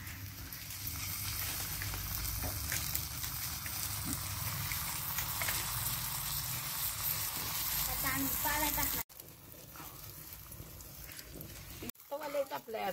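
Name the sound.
dhapate flatbread cooking on a hot griddle over wood stove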